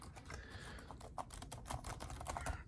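A laptop keyboard is pressed down into its seat during a Dell Inspiron 5555 repair, giving a quick run of light plastic clicks and taps close by, with no talking.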